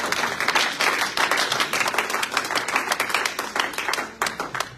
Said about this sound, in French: Acclamons très fort pour ça.